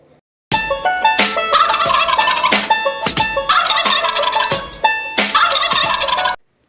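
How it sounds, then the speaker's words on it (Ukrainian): A turkey gobbles repeatedly, rapid bubbling warbles in quick bursts, loud and near, continuing for several seconds before stopping abruptly. "Індик гилгоче."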